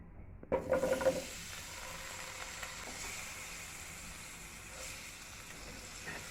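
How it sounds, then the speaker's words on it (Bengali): Java plums being mixed and lightly fried in a pan for pickle: a few quick stirring knocks at the start, then a soft, steady sizzle that continues quietly. "একসাথে মিশিয়ে নিচ্ছি, হালকা ফ্রাই করে নিব।"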